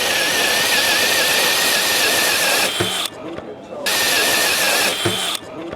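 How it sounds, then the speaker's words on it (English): A hole saw driven through material with a Pushpilot accessory whines steadily at close range, dropping off twice in short pauses before restarting, with no talking. "So you get it right up to the hole you're about to drill and just start drilling."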